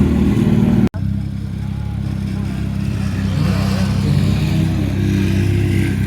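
Two-stroke motorcycles arriving at a bike meet, their engines droning and revving at a moderate distance in a continuous mix of passing machines, with people talking nearby.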